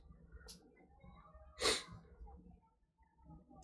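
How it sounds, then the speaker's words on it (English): A single sharp sneeze bursts out loud and close partway through, set against quiet room tone with faint breathing and small movements before and after. "I'm just struggling with just sneezing right now"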